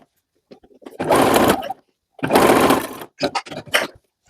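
A sewing machine stitches a women's vest in several short runs, its fast whirring buzz starting and stopping abruptly, with brief quiet gaps and a few quick stutter bursts near the end.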